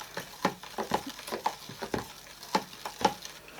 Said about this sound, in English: So I'll just stir this until it turns smooth